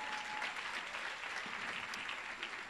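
A church congregation applauds with sustained, dense clapping throughout, fairly faint and steady, with no clear speech over it.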